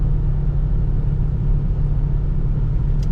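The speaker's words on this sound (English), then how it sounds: "Today we're driving a 1977 Ford Thunderbird." A 1977 Ford Thunderbird's engine, heard from inside the car while driving, gives a steady low rumble with a continuous drone that holds even throughout, with no talk over it.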